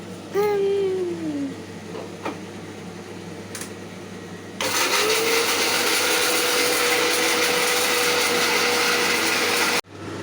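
A kitchen mixer grinder grinding coconut whirs loudly and steadily for several seconds before cutting off abruptly, after some brief background clatter.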